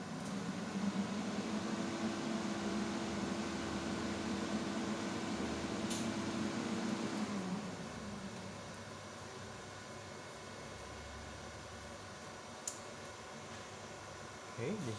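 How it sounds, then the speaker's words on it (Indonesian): A 3 kW 48 V off-grid rack-mount low-frequency inverter, once switched on, gives a steady low transformer hum and fan whir. The hum drops partway through to a quieter running noise, and a voice speaks over it. "Oke, di sini inverter menyala ya."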